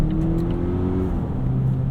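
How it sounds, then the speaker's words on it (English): A 2018 Volvo XC60 T6 AWD R-Design cruises at night, its engine humming steadily from inside the cabin as revs drop and settle through a muted, smooth downshift. "Downshifts are a little muted,"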